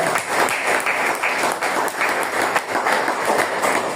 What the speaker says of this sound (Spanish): Dale palmas al Señor